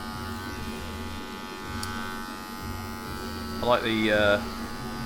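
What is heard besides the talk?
electric hair clipper cutting hair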